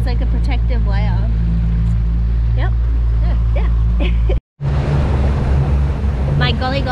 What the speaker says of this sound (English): The boat's floating. Engine started.